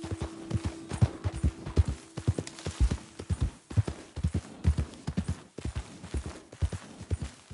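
Horse hooves clip-clop steadily in Red Dead Redemption 2, a close, regular trotting rhythm of sharp thuds that runs throughout with no talk over it.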